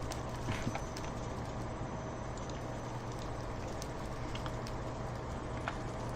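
Horse hooves clip-clopping on blocks in the Minecraft video game, a steady stream of soft, evenly paced footfalls running throughout without talk.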